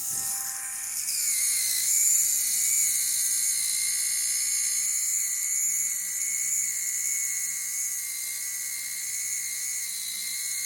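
Small Scalextric Lamborghini slot-car motor running in reverse as its tyres are trimmed against sandpaper, a high steady whine that rises at the start then holds for several seconds, close and fairly quiet, with no talking.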